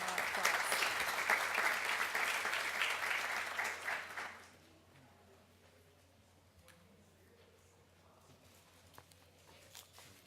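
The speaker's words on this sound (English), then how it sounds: "Please give him a warm welcome of applause." Roundtable conference audience applauding to welcome a speaker, a dense burst of clapping for about four seconds that stops abruptly, leaving quiet room noise and faint scattered taps.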